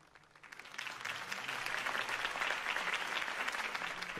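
Video game crowd applause in Batman: The Telltale Series rises quickly and holds steady, a dense wash of clapping from many hands, moderately distant.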